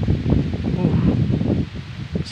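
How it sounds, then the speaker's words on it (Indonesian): Strong wind gusting across a plantation, a steady low roar with rustling foliage that carries through the whole stretch and eases slightly near the end. "Sangat kencang ya anginnya"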